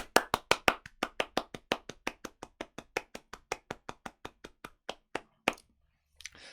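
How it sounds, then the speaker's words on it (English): A small group claps for an online event, a single set of close, sharp hand claps in a steady rhythm that gradually slows and fades after about six seconds. "it is time for your round the world round of applause"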